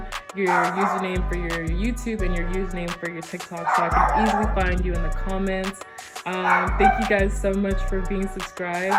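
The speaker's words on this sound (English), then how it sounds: "my dog's in the background screaming" A dog barks, yips and whines repeatedly in the background of a room while a person talks steadily over it, the barking coming in bursts throughout.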